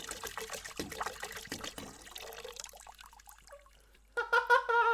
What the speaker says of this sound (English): Gus is drinking water